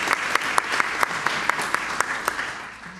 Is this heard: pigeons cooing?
no